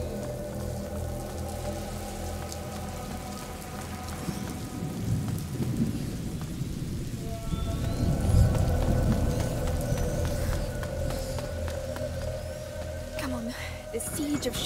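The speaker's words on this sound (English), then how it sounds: "Lucas, Hugo, stay out of the rain" Steady rain with rumbling thunder in the video game A Plague Tale: Innocence, a continuous storm bed that swells into a heavier roll midway, with voices talking over it at times.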